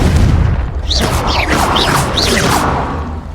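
A Confringo fire spell blasting in the game Hogwarts Legacy, a loud, dense booming roar of continuous fiery impacts with several rising whooshing streaks layered through it.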